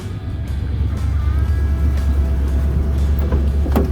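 A 1978 Dodge Monaco 9-passenger wagon on a test drive, a steady low engine drone and road rumble heard from inside the car, with a few faint creaks and clicks.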